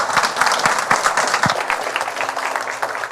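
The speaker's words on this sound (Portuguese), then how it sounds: "gostaríamos de concluir o dia com um aplauso de agradecimento ao Silvio" Audience applause closing a philosophy café talk, a short burst of close, crisp clapping from a crowd that starts strong and thins toward the end.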